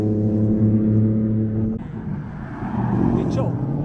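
Fast cars at a track day in Buenos Aires, Argentina, a loud engine drone that fades as one car passes, then a rising rumble as another approaches, with people talking over it.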